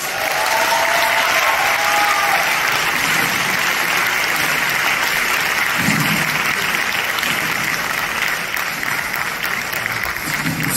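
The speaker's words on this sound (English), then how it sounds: "This applause is for you." A theatre audience at a Michael Jackson tribute show gives loud, dense applause that holds steady for the whole stretch, with faint voices near the start.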